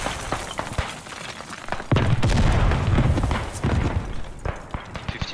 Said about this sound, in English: I keep eating artillery shells for some reason